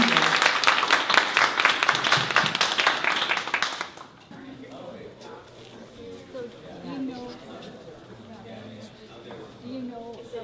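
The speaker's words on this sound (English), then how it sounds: "Let's give a round of applause." Audience applause closing a lecture at MOHAI, dense clapping for about four seconds that stops abruptly, followed by quieter room chatter and voices talking.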